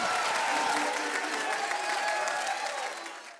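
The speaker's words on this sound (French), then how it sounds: "Sous vos applaudissements!" A full round of crowd applause, even and continuous, slowly tapering off at the end with no one speaking.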